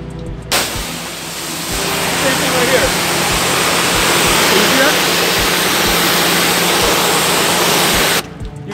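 A water hose sprays a steady, loud hissing stream onto a ceramic-coated car, starting abruptly, running continuously close by for several seconds, then cutting off sharply, with faint periodic thumps underneath.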